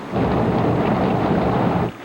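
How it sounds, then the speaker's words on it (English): Steady roar of heavy rain and wind from Hurricane Lili, loud and close, holding constant for about two seconds before easing off. "The hurricane blew in with fierce wind and slashing rain."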